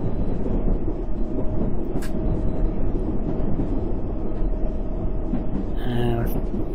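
A London Underground train running between stations, a steady loud rumble and rattle that carries through the whole stretch, with a brief squeal near the end.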